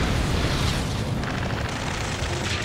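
Continuous heavy missile blasts and booming impacts from an Ace Combat 7 combat rescue mission, a dense, loud rumbling roar of explosions filling the whole stretch without letup.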